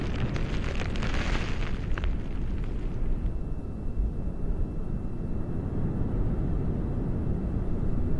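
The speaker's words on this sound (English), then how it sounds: "Burn profile on the solid rocket motors appears to be within family." A spy satellite rocket rising on solid rocket motors and an RS-68 engine makes a continuous, heavy, crackling roar, loud and steady throughout, with no voices.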